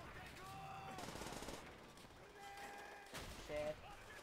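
Gunfire in Call of Duty: World at War: bursts of automatic weapon fire with several sharp shots, fairly faint and mixed with game sounds and a talking voice.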